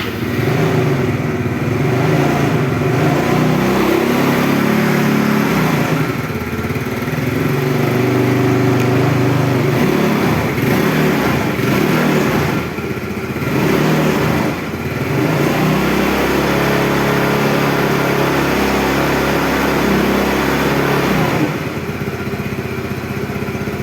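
A Yamaha Mio Smile motor scooter engine with CVT idles steadily and close by, with a few slight dips and rises in pitch as it runs.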